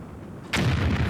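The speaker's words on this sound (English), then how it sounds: "It's fun to watch that explosion going." A loud explosion from the Disney Infinity 3.0 video game, a Phineas and Ferb level, bursts in suddenly after a quiet moment and then keeps rumbling and crackling on as a sustained blast.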